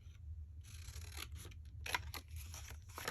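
Scissors cut the bottom edge of a vintage paper receipt being made into Christmas tags, giving soft close snips and papery rasps over a steady low hum, no one speaking.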